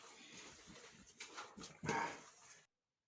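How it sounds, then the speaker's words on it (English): Excited whimpering from a dog in a home kitchen, with a few short whines and snuffles close by, one louder whine near the end before it cuts off abruptly. "My dog is excited too because he wants chapli kebab as well."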